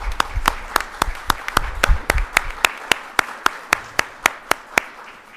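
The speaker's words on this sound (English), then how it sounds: "So please first give yourselves a great round of applause." At a contributor of the year recognition event, a small group applauds briefly, then the clapping dwindles to a single person's sharp, evenly spaced claps continuing alone in a quiet room.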